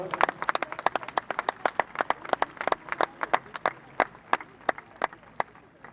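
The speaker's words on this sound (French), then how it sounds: "on ne va pas se priver de les applaudir à nouveau" Scattered applause from an audience for race prize winners at an equestrian event in Pau, a dozen or so hands clapping in uneven, sharp bursts that rise and fall, fairly close with no voices over it.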